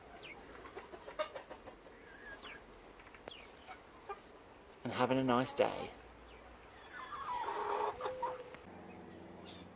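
Hens cluck and call intermittently at moderate distance, with a louder squawking burst midway and a person speaking briefly.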